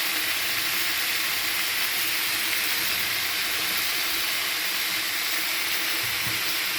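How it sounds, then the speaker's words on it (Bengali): Ginger, turmeric and cumin fry in hot oil for an egg, potato and pointed-gourd curry, producing a continuous, even sizzle and hiss that stays close and steady with no voices. "এবার ভালো করে আরও ভাজলাম, জিরে দিয়ে দিলাম।"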